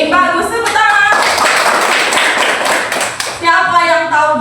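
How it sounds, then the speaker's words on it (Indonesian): Children clap together in a classroom after a pupil answers a Quran lesson question, a dense burst of many small hands lasting a few seconds, with a voice heard at the start and end. "Bagus, tepuk tangan."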